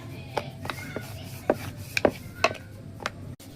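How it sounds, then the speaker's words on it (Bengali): Knife cutting rolled dough for chhuti on a board: a series of sharp, separate taps and scrapes, about eight cuts in irregular rhythm, close and fairly quiet. "এইভাবে করে আবারও কেটে নিচ্ছি"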